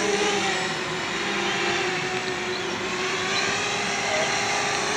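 Armattan hexacopter drone with new PID settings hovers close by, its motors and props giving a continuous loud buzzing whine with small pitch shifts as it holds position to land.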